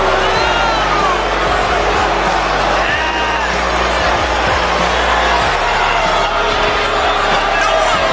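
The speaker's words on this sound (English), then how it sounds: "And the crowd are booing them here tonight." Dense, loud crowd noise fills a WWE SmackDown tag team championship match arena between The New Day and A-Town Down Under, a steady roar of disapproval from the audience running throughout.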